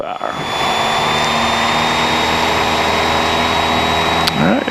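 A small single-engine airplane revs to full power for its takeoff roll, a loud, steady droning roar with a high whine that runs almost the whole time, briefly surging again near the end.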